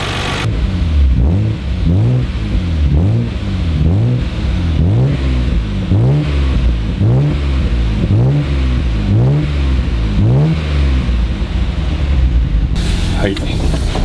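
Nissan R33 GT-R, well maintained, revved repeatedly while stationary, a loud close exhaust note rising and falling in about ten regular blips, one every second or so, alone without talk.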